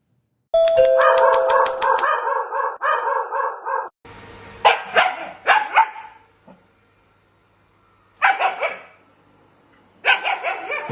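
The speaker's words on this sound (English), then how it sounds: "he's an Arab hunting dog, lives in Dubai. And here he is encountering for the first time one of those robot vacuum cleaners" An Arab hunting dog in Dubai barks in loud bursts at a robot vacuum cleaner, first a rapid run of close, sharp barks, then scattered single barks and short volleys separated by pauses, with no talking.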